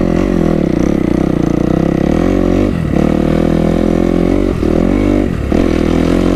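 A Kawasaki KX250 dirt bike engine lugs at low revs while being ridden, giving a loud, close, steady thrum with a few brief dips where the throttle eases.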